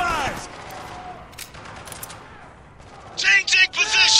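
Gunfire rattles in a Spec Ops: The Line firefight: a sharp opening burst, scattered distant shots through a quieter middle, then loud close bursts of automatic fire at the end, with no speech.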